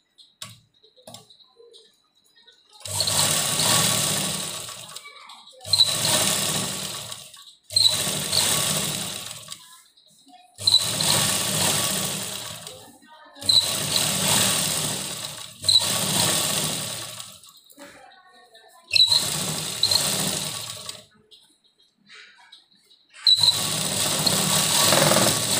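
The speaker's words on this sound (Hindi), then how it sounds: "और यहाँ पर एक सिलाई लगाएंगे।" A sewing machine stitches a kurti neckline in eight loud, steady bursts of rapid whirring, each lasting one to three seconds and separated by short quiet pauses, with no voices.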